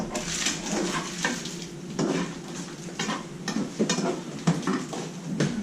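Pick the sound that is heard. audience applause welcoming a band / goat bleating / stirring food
stirring food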